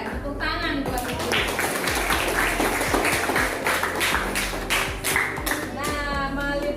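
Classroom of children clapping, a burst of uneven hand claps and taps, close and fairly loud, with kids' voices and talking around it.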